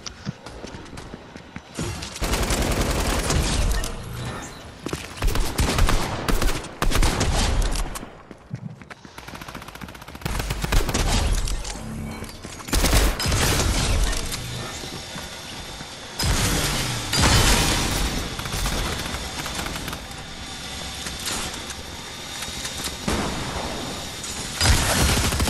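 Pistol gunfire in the video game Fortnite comes in loud bursts of rapid shots, separated by short pauses and gaps, with mechanical clatter and other game effects mixed in.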